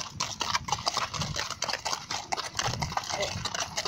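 Horse walking on a ride, with steady clip-clopping hoofbeats heard under wind noise and outdoor rumble; someone talks over it.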